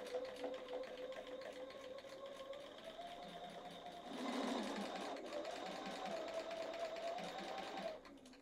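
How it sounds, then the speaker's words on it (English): A home sewing machine steadily stitches foundation paper-pieced quilt fabric, its motor a continuous whirring hum that rises briefly midway before stopping near the end, heard close and alone. "let's go over and start sewing our pieces together"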